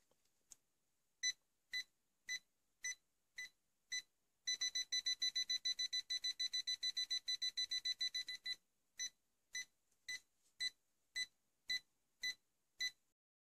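A GVDA GD128 rechargeable multimeter beeps in non-contact voltage test mode, sounding a steady series of sharp electronic beeps, then a rapid continuous burst of fast beeping for several seconds before returning to evenly spaced single beeps, loud and close with no talking.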